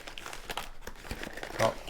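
A small plastic package holding two Litelok lock keys is crinkled and torn open, giving soft, irregular crackling rustles that swell briefly near the end, close by and without talk.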